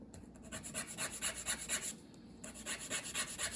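Nail stick or file rasped back and forth on a fingernail while applying a triple vitamin dip manicure, a steady close rhythmic scraping of about a dozen strokes with a brief pause midway.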